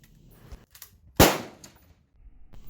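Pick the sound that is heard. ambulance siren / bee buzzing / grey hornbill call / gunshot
gunshot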